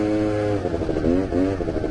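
A quad bike with a new engine being run in idles close by, a steady buzzing drone with slight wavering pitch rises and dips over a couple of seconds.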